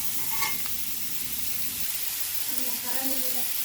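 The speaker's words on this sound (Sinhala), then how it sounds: "ලුණු ටික හොඳට බැදෙනකම් මේක හැඳි ගන්න" Onions fry in hot oil while a spoon stirs them for a chickpea curry, a steady soft hiss of sizzling with faint scraping, low and continuous throughout.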